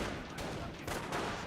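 A sniper rifle fires in a Company of Heroes battle, with sharp shots cracking through a dense, steady wash of gunfire and combat noise.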